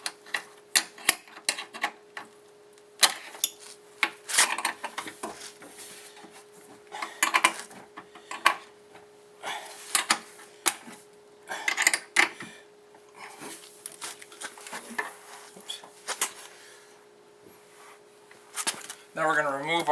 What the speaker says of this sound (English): taking our 10mm wrench, we're going to snug these guys down